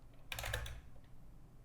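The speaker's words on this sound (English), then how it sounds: "Yes, yes, yes, I'm still typing." Rapid keystrokes on a computer keyboard during a circuit-puzzle game session, a short close burst of clicks that fades into quiet room noise.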